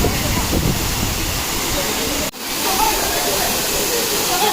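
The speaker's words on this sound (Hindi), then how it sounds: "Look at the view guys, कितनी बढ़िया फॉल है देखो।" Tiger Falls in Chakrata roars in a loud, unbroken rush of falling water close by, a dense hiss that barely dips for a moment.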